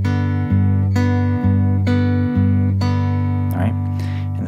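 Fingerpicked acoustic guitar, the thumb alternating with two fingers in a steady back-and-forth pattern, plucked notes repeating about every half second, close and clear without speech.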